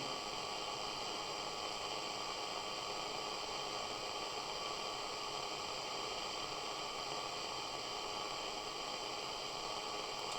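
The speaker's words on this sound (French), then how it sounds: "pendant un moment, ça a fait du bruit blanc vraiment constant" A radio gives off constant white-noise static during a paranormal investigation, a steady, unbroken hiss at even loudness throughout, with no voices over it.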